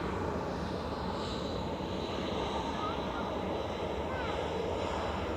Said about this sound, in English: So the VistaJet's departing now,